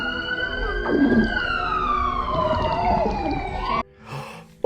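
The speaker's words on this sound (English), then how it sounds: "And we hear the police, but it's too late." A loud police siren wails in a long, falling tone, close by, then cuts off abruptly into a brief muffled noise.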